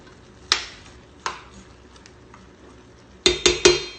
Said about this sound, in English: I'm going to stir it up, and I'm going to continue to let this cook.